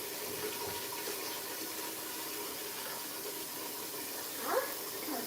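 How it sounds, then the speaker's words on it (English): Water runs steadily from a kitchen tap into a pot while preparing Nigerian egusi soup, a constant broad hiss from start to finish with a slight surge near the end. "Water has been added."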